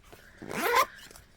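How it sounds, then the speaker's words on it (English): A handbag's back zip pocket being zipped in a single quick pull that rises in pitch, close and fairly loud with no talk over it. "On the back side, you have a nice size zip pocket"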